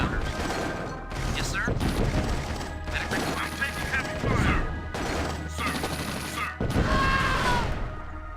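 Gunfire and explosions in the strategy game Tiberian Sun, with repeated bursts of shots, crashes and mechanical unit sounds in irregular clusters, mixed with brief game unit voice lines.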